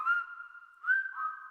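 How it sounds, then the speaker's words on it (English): A person whistles a short tune, clear sustained tones with a pitch rise midway, heard alone. "We'll even whistle while we work."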